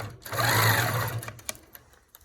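A longarm quilting machine running a short burst of fast stitches to lock down couched yarn at 16 stitches per inch, a loud, close mechanical whir that stops after about a second, followed by a few small clicks.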